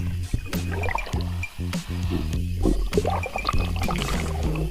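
Strong sea waves slosh and slap against a small fishing boat at sea, with a droning engine hum running beneath the irregular splashes.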